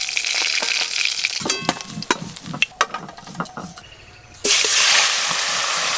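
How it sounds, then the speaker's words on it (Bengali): Small bata fish frying together in a pan: sputtering crackles and scraping stirs come in bursts, then a loud, dense sizzle takes over for the last second and a half, close by with no speech. "যা মাছ আছে একসঙ্গেই সব ভেজে নেব।"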